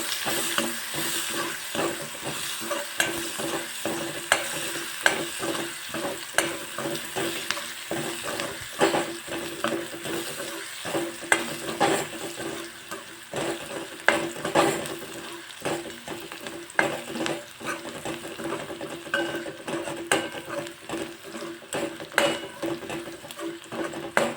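Finely chopped onion frying with whole spices toward golden brown for a Rajasthani split moong dal, a bright crackling sizzle under a quick, busy rhythm of spatula scrapes and clicks, loud and close throughout with no voices.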